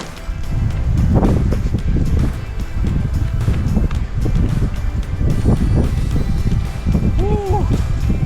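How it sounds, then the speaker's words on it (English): Strong gusts of wind buffet the microphone on a mountain hiking trail in the Colorado Gore Range in fall, a loud, rumbling, uneven roar that swells and dips throughout, with brief vocal sounds near the end. "That wind is crazy."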